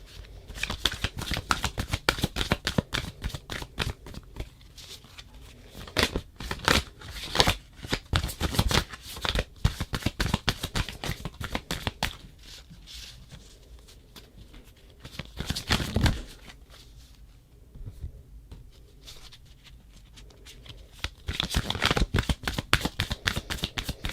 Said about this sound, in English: we're going to go ahead and pull some advice cards